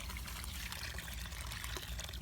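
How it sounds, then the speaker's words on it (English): Water from a watering can splashes steadily onto garden planters of hostas, coleus, begonias and hardy ferns, a continuous close pouring and trickling with low rumble and no talk. "make sure they all get water all around, Ava, to each one, okay?"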